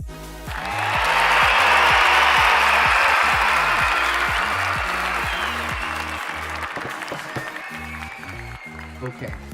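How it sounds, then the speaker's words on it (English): Cheering and applause sound effect triggered on a Twitch stream, a broad crowd roar rising quickly and holding loud for several seconds before slowly fading. "Give us a cheer."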